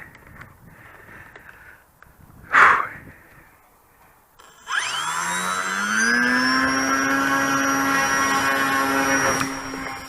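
A Fournier RF4 light aircraft engine on takeoff: after a brief thump, the engine spins up sharply and holds a loud, steady, rising drone with strong harmonics, close to the listener.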